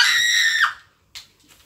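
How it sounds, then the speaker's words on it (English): A man gives a sharp, high-pitched scream during an Xbox Treasure Wars duos match. The loud cry lasts under a second, falls off at the end, and is followed by a shorter, fainter yelp. "Manly, very manly scream."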